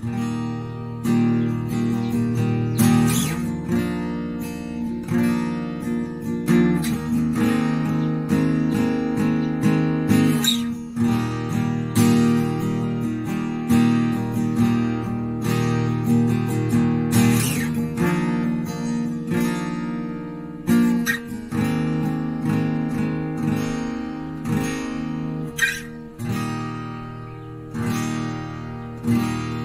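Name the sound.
acoustic guitar ringing with long sustain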